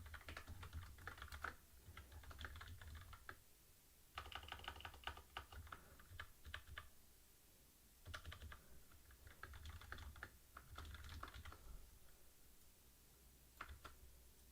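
Keys on a computer keyboard clatter in quick bursts of typing, close and fairly loud, with short pauses between the runs and no talking.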